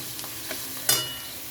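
Goat fat is stirred into oil over an onion and spice paste for ghugni, a quiet sizzle broken by a few soft stirring scrapes and one sharper clatter of the spoon.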